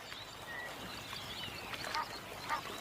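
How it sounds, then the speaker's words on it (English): Egyptian geese foraging on aquatic plants in an African stream, with a few faint, brief goose-like calls over a steady hiss of running water and ambient noise. "A pair of Egyptian geese forages on aquatic plants growing in a stream."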